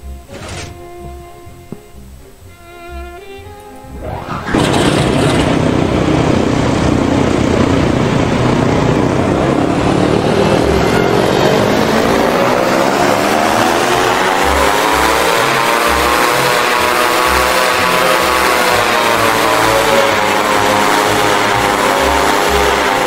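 Propeller airplane engine in flight, starting quiet and then surging abruptly into a loud, continuous droning roar whose pitch slowly bends down and back up.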